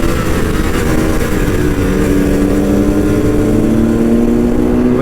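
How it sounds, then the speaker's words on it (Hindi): Superbikes race past with a loud, continuous engine roar, pitch rising and shifting as they accelerate up close, with no talk over it. "यहाँ पे भाई सुपर बाइक्स आ चुकी हैं। तो भाई सुपर बाइक के साथ भाई रेस लग चुकी है।"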